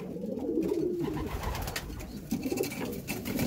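Pigeons in a loft at night give soft, low rolling coos, a few distinct calls close by over a quiet background, with no one speaking.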